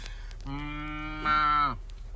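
A cow or calf moos once, close and loud, a long drawn harmonic call that swells toward the end before cutting off, with no voices over it.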